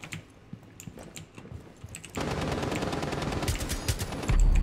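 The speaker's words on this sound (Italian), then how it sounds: "Ma sento sparare qui sopra." Gunfire in the video game Rainbow Six Siege: after a quieter stretch of clicks and faint shots, a dense, loud burst of rapid automatic fire erupts and continues, with heavier blasts near the end.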